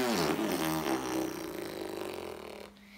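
A voice imitates a long, loud fart with a buzzing, sputtering lip sound lasting nearly three seconds before cutting off abruptly.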